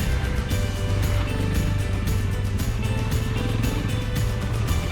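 A Honda CRF300L motorcycle ploughs through deep sand, its engine droning loud and continuous with a rough, uneven texture and no clear talk over it.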